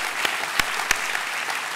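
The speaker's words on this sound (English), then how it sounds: "which I reckon is worth a bit of applause" An audience at a live interview applauds in a short, even round of clapping, with a few louder individual claps standing out near the start.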